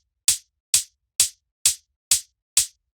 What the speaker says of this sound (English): we have the open hi-hat, which sounds like this